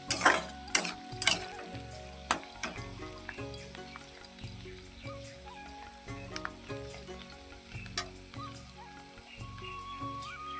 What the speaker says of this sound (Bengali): এদিকে তো দেখতেই পেলে যে আলু ভাজা হচ্ছে